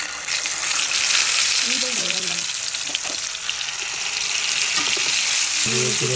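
Pearl spot fish frying in a hot pan, a steady close sizzle and crackle throughout, with a few short stirring or scraping touches and a brief voice underneath.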